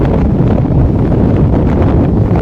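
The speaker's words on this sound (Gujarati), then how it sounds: "ખૂબ ઝડપથી પવન ફૂંકાય છે" Strong wind roaring steadily into the microphone under dark storm clouds, a loud continuous rumbling buffet with no pauses.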